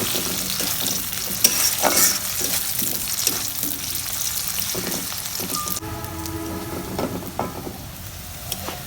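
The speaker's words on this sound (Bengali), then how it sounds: "আলু আর পেঁয়াজটা ভাজা হয়ে গেছে" Potato and onion pieces fry together in a pan with a steady, moderately loud sizzle, broken by repeated scraping stirs of a spatula and a brief metallic clink.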